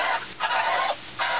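Six-week-old Jumbo Cornish Cross chickens cluck close by in short bursts separated by brief pauses, with no talking.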